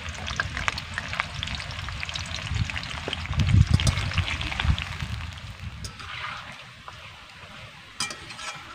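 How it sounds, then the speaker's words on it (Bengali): Dried peas deep-fry all together in a generous amount of oil over medium heat, a continuous bubbling sizzle with occasional clinks and scrapes, swelling louder in the middle before easing off. "সবগুলো মটরকে কিন্তু আমি একই সঙ্গে ভেজে নেব"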